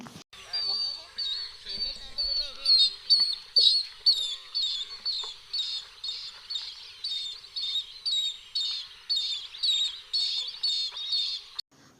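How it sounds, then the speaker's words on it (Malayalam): A bronze-winged jacana repeats a sharp, high call in a steady rhythm, about two calls a second, fairly loud and clear against a quiet background. "നാടൻ താവരക്കോഴിയുടെ ശബ്ദമൊന്ന് കേട്ടാലോ കൂട്ടരെ"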